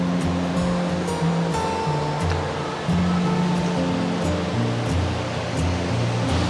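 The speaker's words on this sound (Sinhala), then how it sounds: "ඔයගොල්ලන්ට පේනවාද මෙතන තියෙන අර ඈතින් පේනව නේද අර දියැල්ල?" Steady, broad rush of falling water from the artificial indoor waterfall at Jewel Changi in Singapore, a continuous roar mixed with a low hum and faint tonal ambience from the surrounding space, with no speech.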